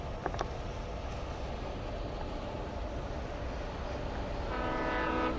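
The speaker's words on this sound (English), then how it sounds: "Oh, it's a train." A train rumbles past in the Alan Wake Remastered video game, a steady loud rolling roar of rail cars with a sharp clank early on and a horn-like tone swelling toward the end.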